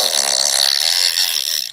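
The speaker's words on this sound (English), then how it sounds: "I need to fart." A close, loud fart, a single sustained buzzing blast lasting under two seconds that tapers off at the end.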